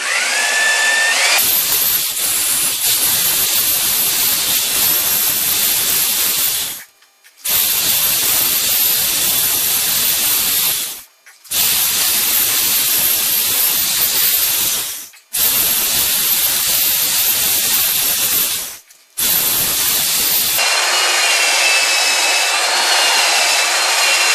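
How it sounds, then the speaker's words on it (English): A power tool grinds crusty rust off the threaded end of a Ford Explorer front axle during a wheel bearing job, a loud continuous abrasive whine in long bursts separated by three brief pauses. "I'm going to try to get as much of this crusty rust off the threads of this axle as I can"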